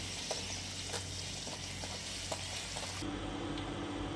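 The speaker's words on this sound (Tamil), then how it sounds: "இது மாதிரி நம்ம ஒவ்வொன்றா பொரிச்சு எடுத்துக்கலாம்" Pooris fry one at a time in hot oil, giving a continuous close crackling sizzle with a few faint scrapes of a utensil in the pan.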